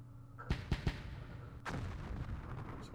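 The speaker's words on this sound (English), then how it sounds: "So there's a mortar around here." Mortar fire in the Vietnam war game Campaign Series Vietnam: three sharp, close reports in quick succession, followed by a heavier rumbling blast that tails off, with no voices.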